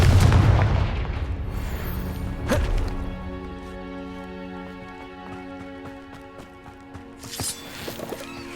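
A Confringo spell explosion in the video game Hogwarts Legacy: a loud boom at the start with a rumbling tail, a second sharp impact, then lingering tonal ringing and a later crackling burst.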